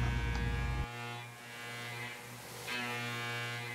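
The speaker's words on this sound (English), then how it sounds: "we're maxing out the machine's spindle speed at 7500 RPM" The spindle of a DIY CNC turret lathe runs at 7500 RPM with a steady high-pitched electric whine and hum, dropping abruptly in level after a loud opening and then holding steady, close and alone.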